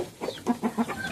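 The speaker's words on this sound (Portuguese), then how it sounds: "hoje percebi que esse galo aqui tá roncando" A rooster with a respiratory illness makes a few short, rough clucking calls in quick succession, close and fairly quiet, with no talking.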